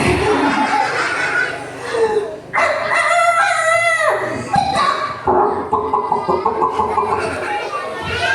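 A human voice imitates a rooster's crow, with stretched rising and falling calls and a few chuckles mixed in, close and clear.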